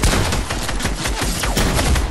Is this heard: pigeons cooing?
no